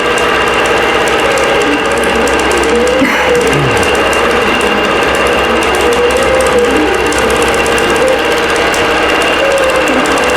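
An embroidery machine stitches a thread pattern, making a loud, continuous mechanical hum and rapid rattle that stays steady throughout with no pauses.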